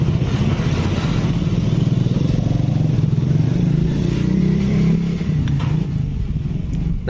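Honda Vario 125 scooter engine running, a close, loud rattling idle with a busy low throb and mechanical clatter that continues steadily throughout.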